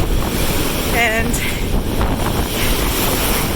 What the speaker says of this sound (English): these waves, they're quite big for lake waves